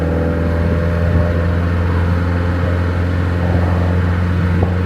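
A Mercedes 190 SL from the 1950s accelerating, its engine droning steadily up close with a low rumbling tone that rises slightly as the car pulls, continuous throughout with no voices.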